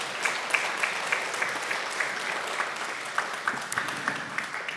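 A church congregation claps in welcome during a Sunday service, giving a steady wash of applause with individual claps standing out from a moderate-sized crowd.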